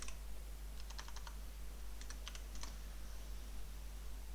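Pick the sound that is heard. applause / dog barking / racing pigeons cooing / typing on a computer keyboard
typing on a computer keyboard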